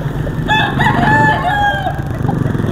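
A Gilmore hatch gamefowl rooster crows loud and close, one full cock-a-doodle-doo with a drawn-out, wavering tail, against farmyard background noise.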